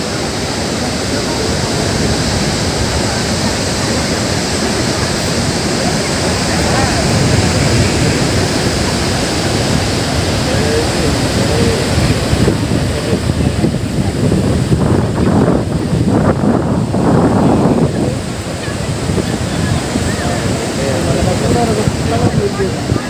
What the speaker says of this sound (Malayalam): അതാണ് മുകളിൽ വെള്ളച്ചാട്ടത്തിൻ്റെ മുകൾ ഭാഗമാണ് നമുക്കിപ്പോൾ കണ്ടത്